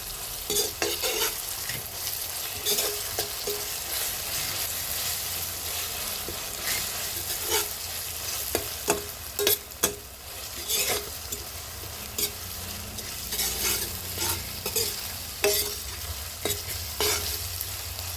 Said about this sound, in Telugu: అల్లం పేస్ట్, ఉల్లిపాయ ముక్కలు, పచ్చిమిరపకాయ ముక్కలు వేగినాయి కదండి